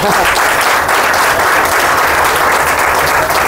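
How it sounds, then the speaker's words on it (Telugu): Meeting audience bursting into loud, dense applause, many hands clapping together in a continuous roar close by, sustained without a break and no talk. "ఈ ఇద్దరికి గట్టిగా క్లాప్స్ ఇవ్వండి"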